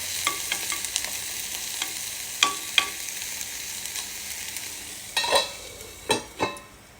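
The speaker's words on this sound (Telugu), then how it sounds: "లాంగ్ బీన్స్ కొంచెం వేగాలి వేగేంత వరకు కొద్దిగా మూత పెడదాం" Long beans fry in a pan under a steady, fairly loud sizzle, with light taps and clinks of a spatula through the first half and a few sharper scrapes near the end.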